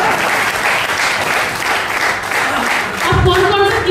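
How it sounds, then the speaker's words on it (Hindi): A live audience claps loudly in steady applause through the whole stretch, with a short burst of a louder, lower thump near the end. "बड़ी जोर की ताली।"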